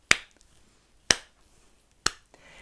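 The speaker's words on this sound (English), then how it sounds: "Can you clap your hands?" Three sharp, crisp claps land about a second apart, each one isolated, with near silence between them.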